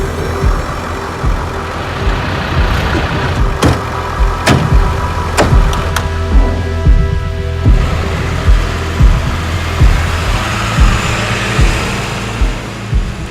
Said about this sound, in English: We wait as the vehicles drive towards the border, into darkness.